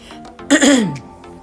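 One short, close, raspy throat-clearing burst, almost a cough, comes from a woman with a hoarse voice, briefly rising above quiet room tone.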